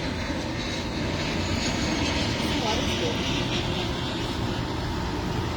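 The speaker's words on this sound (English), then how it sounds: "It's an airplane. You see the airplane?" An airplane passing overhead gives a steady, broad engine roar at moderate distance that lasts throughout, with a person talking over it.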